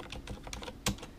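Keys clacking on a Corsair Strafe RGB gaming keyboard with Cherry MX Silent switches, a steady run of soft close keystrokes with one louder thump near the end.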